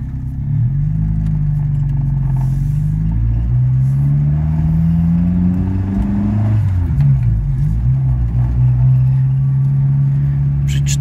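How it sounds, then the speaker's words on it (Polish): A 1980 Mitsubishi Colt A150 drives on a test run, its engine loud and close as it revs up and down through rising and falling pitch, with gear changes marked by brief dips. "Wykonamy teraz jazdę testową naszym pojazdem. Odpala bardzo ładnie."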